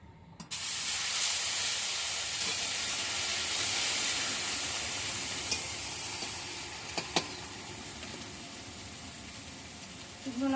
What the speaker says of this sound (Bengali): প্রথমে আমি দিয়ে দেবো পেঁয়াজ